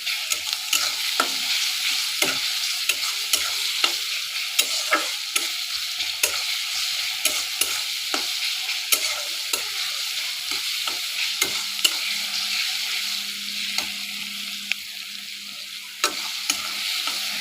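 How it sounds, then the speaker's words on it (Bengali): Spices and ginger-garlic paste fry in a pan while a utensil stirs them, with rhythmic scraping clicks over a continuous close sizzle. "এই মশলাগুলোকে ভালো করে একটু নেড়ে চেড়ে কষিয়ে নিতে হবে"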